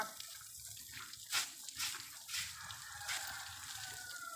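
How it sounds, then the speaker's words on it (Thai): Water splashes and pours over an elephant being bathed outdoors in the morning, with several brief louder splashes over a steady trickle and running water throughout, fairly close. "อาบน้ำทุกเช้านะคะจะอาบน้ำอย่างนี้นะคะ"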